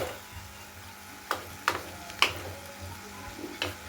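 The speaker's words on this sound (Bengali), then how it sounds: "যাতে পুড়ে না যায় সামান্য পরিমাণে জল দিয়ে দেবো" A hot pan of spiced Bengali fish curry sizzling softly after a little water is added, with several sharp ticks and clinks from stirring spaced over a quiet, steady hiss.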